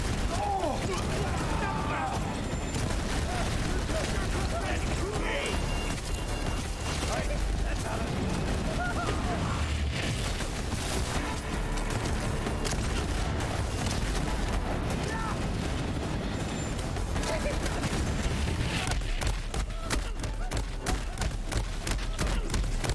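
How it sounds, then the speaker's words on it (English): Explosions and gunfire in the Borderlands 3 video game, with dense, continuous blasts and shooting filling the mix, layered with game music and effects. "I clearly hear explosions"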